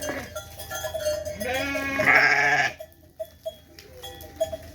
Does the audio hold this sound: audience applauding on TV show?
no